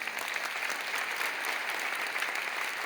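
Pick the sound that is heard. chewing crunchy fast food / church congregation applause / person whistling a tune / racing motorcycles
church congregation applause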